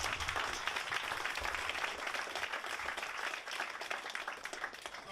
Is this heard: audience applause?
yes